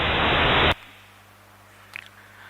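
A radio telescope's sky signal played back as random noise: a loud burst of harsh hiss that cuts off abruptly after under a second, leaving low hum and a faint brief sound.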